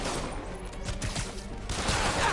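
Bursts of gunfire crackle in the Spider-Man PS4 video game, a fairly quiet, ragged volley of shots mixed with game ambience.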